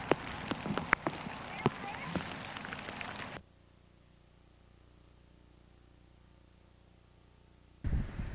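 Rain falling outdoors during picking, a hissing patter of drops with sharp taps on a surface, cutting out to near silence midway before the rain noise returns.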